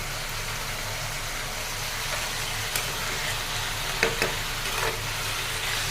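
Lentil dumplings (bori) fry steadily in a pan, a continuous close sizzle with a few sharp crackles and pops toward the end; no one speaks.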